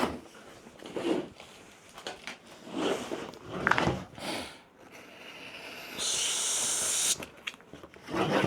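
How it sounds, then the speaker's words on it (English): A knife slicing through the sticker seal on a Transformers toy box, soft scraping strokes and rustles with a sharp hissing tear near the end, close up. "So we got a slice through the sticker."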